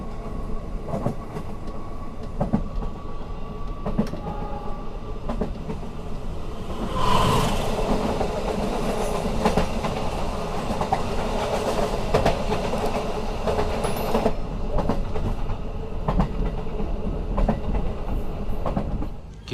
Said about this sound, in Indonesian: Kita sudah diberangkatkan kembali dari stasiun Krupuk ya.